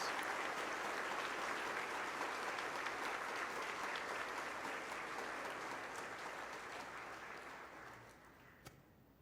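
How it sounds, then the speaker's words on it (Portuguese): A congregation at a Holy Thursday Mass in a church claps in warm, sustained applause that holds steady and then slowly fades out near the end. "Agora uma bonita salva de palmas à palavra de Deus."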